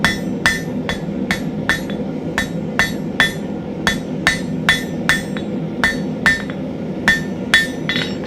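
Blacksmith hammering a small piece of hot steel to taper a point for a bookmark: about twenty sharp, ringing hammer strikes in a steady rhythm, close and loud, over a constant low forge roar.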